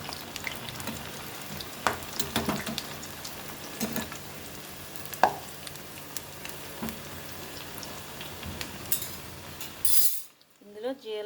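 Sweet corn and bottle gourd fritters crackle and sizzle in hot oil, a steady close fry with occasional clinks of a utensil, ending in an abrupt hush near the close.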